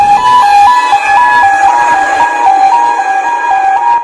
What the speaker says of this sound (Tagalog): kuha ni Mark de los Reyes Cabrillos, makita ang nagahagunos nga fire truck nga nagrespondi sa nagadabadaba nga duha ka mga wing van